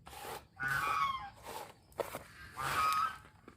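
Muscovy ducks at feeding time give several hoarse honking, hissing calls in bursts, close by, with some shuffling in between and no talk.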